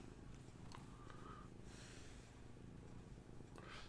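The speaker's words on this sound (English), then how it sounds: "she's purring her head off." A cat purring steadily and softly up close, its rhythmic rumble continuing throughout, with a few faint rustles and no speech.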